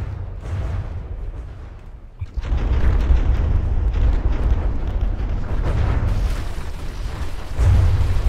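An electrical engine explodes in the naval building game From the Depths, giving a loud, sustained roaring blast with a heavy low rumble that swells again near the end, with no talking.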